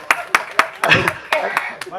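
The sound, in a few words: audience clapping at press meet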